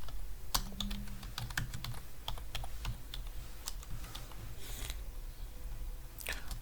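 Rapid keystrokes on a computer keyboard while HTML form code is typed, irregular close clicks and taps running continuously with a low background hum.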